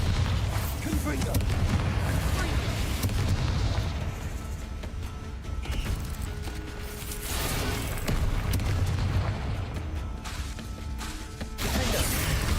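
Confringo and Bombarda spell blasts in Hogwarts Legacy: repeated booming, crashing explosions rolling almost continuously beneath a voice calling out during combat.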